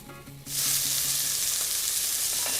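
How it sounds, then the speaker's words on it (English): Onions hit a hot pan for a lentil stew and start to fry with a loud, steady sizzle that rises suddenly and holds. A faint rhythmic tapping comes just before it, and no one talks. "so I can cook the onions in it"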